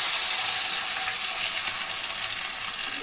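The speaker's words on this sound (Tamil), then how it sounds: "இப்போ நம்ம அரைச்சி வச்சிருக்கிற இந்த சாந்தை ஆட் பண்ணிடலாம்" Ground masala paste for chana masala hits a hot frying pan, giving a loud, steady, bright sizzling hiss that fades only slightly as it continues.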